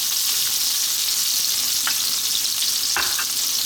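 Sliced onion fries in hot sunflower oil in a wok over high heat, giving a constant dense close sizzle with a few short scraping stirs near the end.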